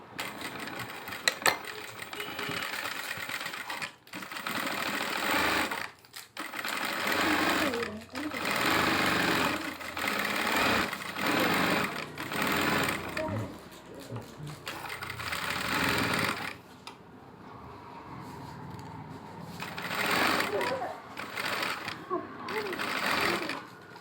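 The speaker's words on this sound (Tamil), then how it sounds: "இது கூட அதுக்கு மேலே இன்னொரு தையல் போட்டுக்கோங்க" A sewing machine stitches a frill onto a silk saree sleeve in bursts of rapid, close whirring, pausing briefly between runs, with someone talking over it.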